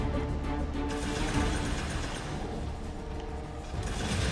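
Whirring, rattling fan mechanism in the Guardians of the Galaxy video game, a steady dense mechanical clatter with ratchet-like ticks running loud and continuous throughout, no voices.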